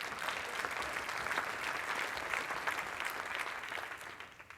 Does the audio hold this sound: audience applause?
yes